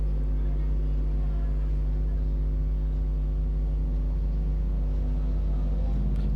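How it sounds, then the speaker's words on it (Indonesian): A steady low motorcycle engine drone rumbles continuously from a nearby road, with traffic noise and no clear breaks. "ada suara motor dan berisik ya mohon maaf ya teman-teman, karena emang rumahnya di pinggir jalan"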